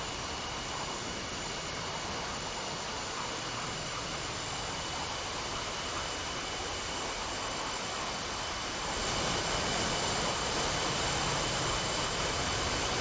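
Jet aircraft engines of two solo display jets rolling inverted in DCS World, a steady broad roar that swells noticeably louder partway through as the aircraft close in.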